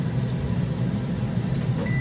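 A microwave oven hums steadily at close range, a constant low drone holding with little change throughout.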